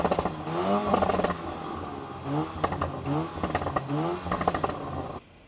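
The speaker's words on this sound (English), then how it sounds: "I want to give you guys some exhaust sound clips." A Porsche Macan T's exhaust rises and falls through several revs, the pitch sweeping upward in repeated pulls with crackles between, heard from close by and then cutting off abruptly at the end.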